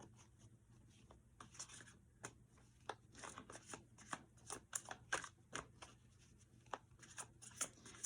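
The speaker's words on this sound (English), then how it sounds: "we're going to go ahead and start shuffling" Tarot cards are shuffled repeatedly up close, with crisp riffling bursts and soft taps and slides between them, quiet and intimate.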